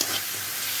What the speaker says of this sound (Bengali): রসুন বাটা দিয়ে নেড়ে চেড়ে